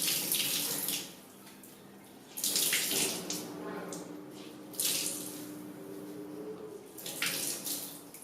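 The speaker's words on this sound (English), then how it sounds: "I'm just going to gently squeeze it." A washed cashmere sweater gently squeezed by hand, water pattering and trickling out in several bursts separated by quieter pauses, close and fairly loud.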